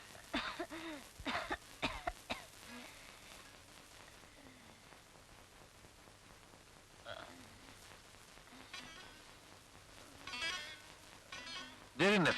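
Several harsh coughs in quick bursts near the start, then quieter breathing and faint voices, with a few more coughs and throat sounds near the end.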